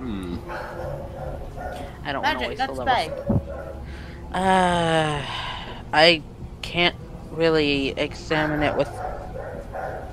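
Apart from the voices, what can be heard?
neighbor's dog barking in the background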